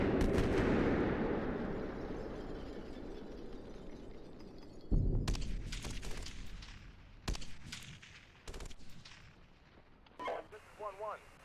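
Heavy cannon and gunfire rumble in the tank combat simulator Steel Beasts Pro PE, a long roaring blast fading out, then sharp separate shots and bursts at irregular intervals, with radio voices in between.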